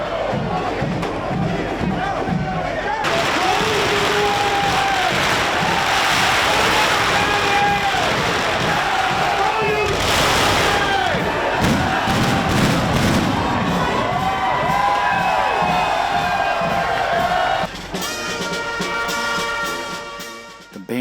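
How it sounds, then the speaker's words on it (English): At a saints' feast, a loud crowd cheers and shouts continuously, then a burst of rapid crackling firecracker pops breaks out near the end as the cheering fades. "a grand moment of cheers to the saints and a firework display, capped off by thousands of firecrackers"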